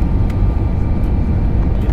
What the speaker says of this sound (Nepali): हाम्रो हवाईजहाज निकै तल झरिसक्यो लगभग ग्राउन्डको नजिक पुगिसक्यो